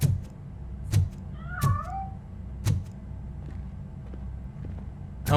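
A cat meows several times in the video game Robocop: Rogue City, a couple of rising, plaintive calls standing out over a quiet background between sharp thumping footstep-like impacts.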